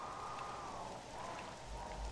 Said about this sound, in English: there's also a storm just to make things a little bit easier.